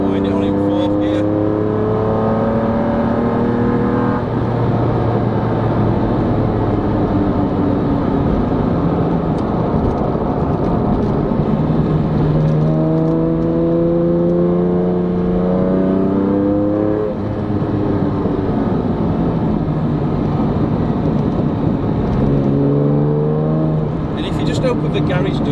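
A Lamborghini Diablo SV engine revs up repeatedly in fourth gear, pitch climbing and falling with each pull, loud and close, with a voice speaking over it.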